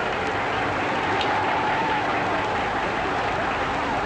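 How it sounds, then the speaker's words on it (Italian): Loud, sustained applause from a large crowd greets Mussolini's arrival at a ceremony in Rome, heard as a steady dense roar of clapping on an old, noisy recording. "Annunciato da un altissimo applauso"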